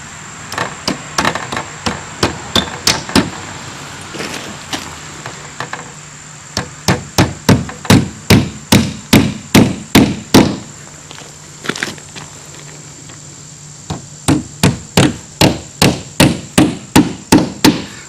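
Nails hammered into a vinyl siding starter strip, sharp rhythmic blows in quick bursts of several strikes with short pauses between, loud and close with no talking.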